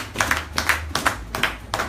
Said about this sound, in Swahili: pigia Bwana makofi makubwa